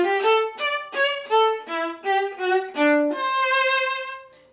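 Opening of the Bach double violin concerto played on viola, a clear solo line of separate bowed notes in a steady rhythm ending on a longer held tone, close and alone.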